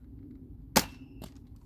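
Old toy dart gun firing at a target, a single sharp pop followed a moment later by a lighter smack of impact, close and alone in a quiet space.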